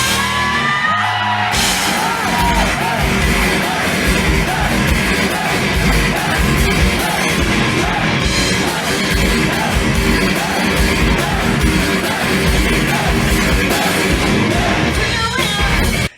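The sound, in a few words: live concert crowd shouting hey during a song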